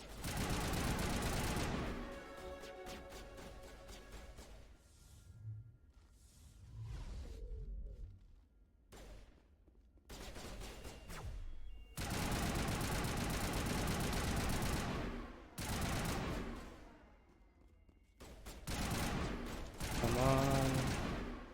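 Mass Effect combat: repeated bursts of automatic gunfire crackle in loud, sustained volleys separated by short lulls, with a few sharp single shots and whooshes mixed in; a voice speaks briefly between bursts.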